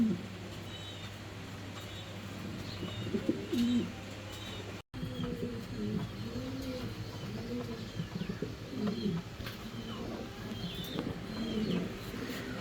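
Running pigeons at a fancy-pigeon market coo again and again in low, rolling phrases, with faint chirps above a steady low hum of background noise.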